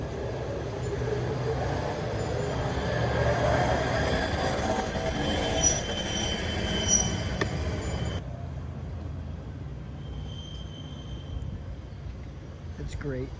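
An Amtrak train rumbles steadily along the rails in Wisconsin, loud and close, with faint high squeals from the wheels; quieter in the final seconds as it slows to a stop.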